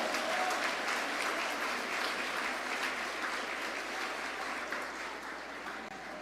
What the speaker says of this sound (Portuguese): Você pode aplaudir, se for para Ele